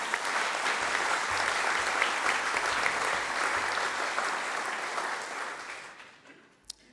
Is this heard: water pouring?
no